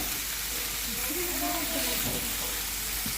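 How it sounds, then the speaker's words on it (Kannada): Marinated fish frying on a tawa, giving a steady, close sizzle and hiss that runs without a break through the whole short stretch, with faint stirring or shifting noises now and then. "ಮ್ಯಾರಿನೇಟ್ ಮಾಡಿರೋ ಫಿಶ್ ತವಾ ಮೇಲೆ ಫ್ರೈ ಮಾಡ್ತಾ ಇದ್ದೀವಿ."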